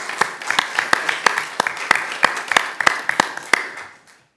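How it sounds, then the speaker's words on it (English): A few people at a Board of Aldermen regular meeting clap for committee appointees, sparse distinct claps in an irregular rhythm that thin out and stop before the end. "They deserve a round of applause."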